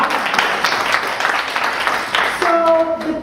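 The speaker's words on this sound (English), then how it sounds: "Let's give her a round of applause for that." An audience at a talk applauds with a dense patter of clapping hands that fades near the end, where a voice begins over it.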